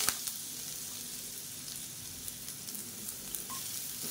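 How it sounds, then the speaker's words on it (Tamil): Asafoetida, curry leaves and rasam powder fry in hot oil for a drumstick rasam, giving a continuous fine, crackling sizzle with light spitting pops and a faint stir, and no talking. "பெருங்காயம் நல்லா பொரிய ஆரம்பிச்சிருச்சு"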